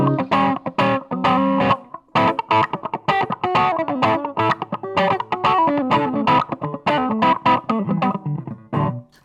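A budget electric guitar with gain and every control turned fully up plays a run of choppy, distorted chords and notes, loud and close, with short gaps between strums and a chorus-like shimmer.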